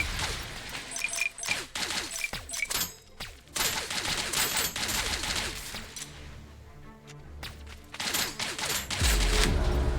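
Rapid gunfire in the sci-fi shooter Hostile Mars during an enemy wave, dense overlapping shots and bursts sustained throughout, loud and close with crashing impacts.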